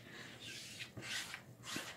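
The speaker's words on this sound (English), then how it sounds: "I will also use my small squeegee just to make sure that it is smoothed out" A small squeegee is rubbed over a Chalk Couture transfer to smooth it down, making soft, quiet scraping strokes in three brief swells. The scraping is close and low in level.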